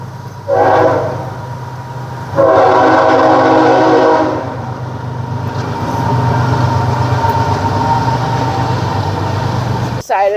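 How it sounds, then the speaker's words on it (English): A train rolls past near a parked truck, sounding its horn in two loud sustained blasts, then a steady heavy rumble of wagons continuing to the end; no talk during the pass. "oh, we got a train coming"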